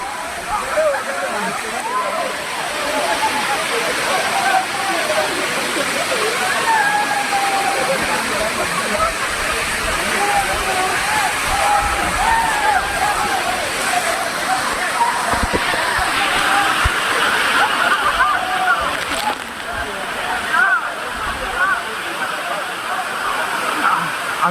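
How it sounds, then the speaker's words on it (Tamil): Aagaya Gangai waterfall in the Kolli Hills roars as a constant rushing wash of falling water, heard close and loud throughout, with a voice speaking over it. "இதாங்க ஆகாய கங்கை அந்த இடத்துக்கு கீழே நின்று பார்த்தோம்னா ஆகாயத்துலேருந்து ஊற்றுற மாதிரியே தெரியும்"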